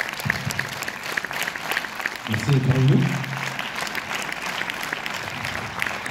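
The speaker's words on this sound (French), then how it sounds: "Beaucoup d'applaudissements." Audience clapping at a French film premiere of La promesse de l'aube in Orléans, a broad sustained applause filling the room under a man's spoken greeting, swelling briefly midway.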